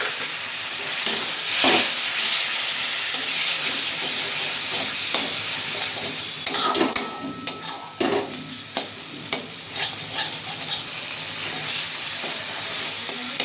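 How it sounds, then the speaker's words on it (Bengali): Spice masala with tomato sizzles and fries in a pan, a steady loud hiss broken by repeated scraping stirs that grow sharper and more frequent toward the end, with no talking. "মশলাটা খুব সুন্দর কষানো হয়ে গেছে"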